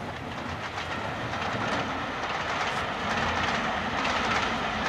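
A train runs steadily along its rails with a continuous rolling rumble and faint rhythmic clatter, close and fairly loud throughout, with no voices.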